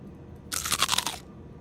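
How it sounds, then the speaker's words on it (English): A single crisp bite into a homemade cookies and cream cookie gives a loud, close crunch of about half a second against a quiet room, with no talking. "I can't eat that whole cookie."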